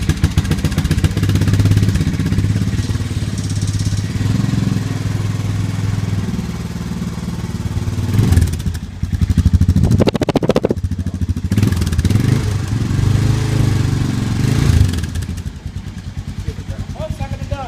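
A Honda TRX250EX ATV idling after a cold start, a steady close mid-pitched engine drone with a few uneven surges, heard beneath ongoing conversation between people.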